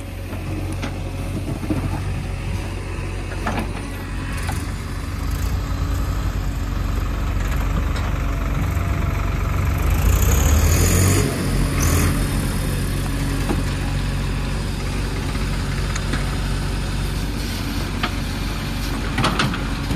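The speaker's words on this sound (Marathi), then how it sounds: "पाण्याचा वेग वाढत असल्यामुळे आम्ही ताबडतोब ट्रॅक्टर बाहेर काढतोय." A Swaraj tractor's heavy engine idles and rumbles steadily at close range as it is pulled from a flooding, sandy river, with a low chugging drone throughout and faint mechanical clatter on top.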